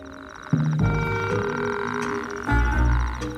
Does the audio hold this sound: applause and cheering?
no